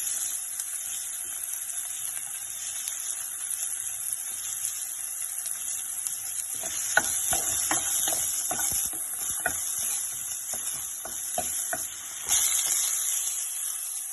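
Mustard seeds, crushed ginger and garlic fry in a pan for a pork masala dry roast, a constant bright hiss with a run of sharp popping crackles in the middle.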